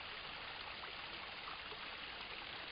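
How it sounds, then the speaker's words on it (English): Small creek swollen with rainwater, feeding a flooded river, a steady faint rushing and gurgling of flowing water, continuous and even with no voices. "Look at this little creek."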